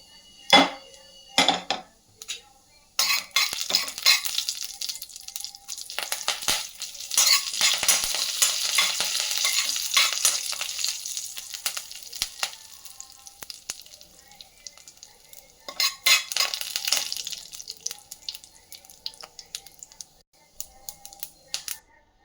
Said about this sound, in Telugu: పోపు చిటపట అనగానే దానికి కొంచెం కరివేపాకు కూడా వేసుకోవాలండి.